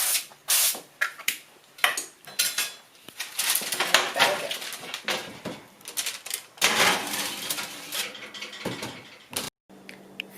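Sweet potato latkes sizzling and being flipped in a pan, with short spray bursts and clinks of a spatula against the cookware in an irregular, busy rhythm, close and fairly loud.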